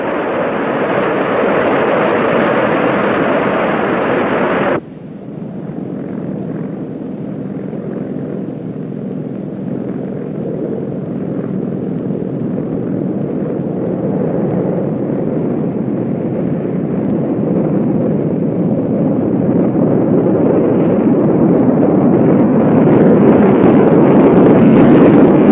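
Military jet engines roar through a takeoff roll at Palmdale, a loud sustained broadband rumble that drops sharply in level after a few seconds, then steadily builds again as the aircraft accelerates.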